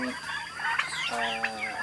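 Turkeys on a village turkey farm gobble and cluck in bursts, several birds close by, their calls layered and overlapping over a faint low hum.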